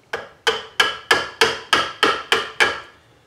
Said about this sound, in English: I'm chiseling out the bow of the ship here.